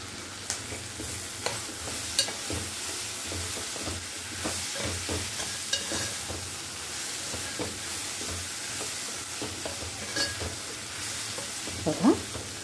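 Cumin and white sesame seeds sizzling in a pan for a hotel-style dosa chutney tempering, a continuous close crackling sizzle broken by light stirring scrapes.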